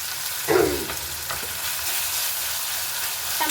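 Fenugreek leaves frying in a little oil, a steady close sizzle with a brief louder crackle as they are stirred.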